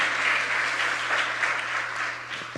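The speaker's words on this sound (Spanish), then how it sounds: "Alguien que lo cree y aplauda a Jesús." Steady applause from a church congregation during a sermon, dense and continuous clapping filling the space throughout without pause.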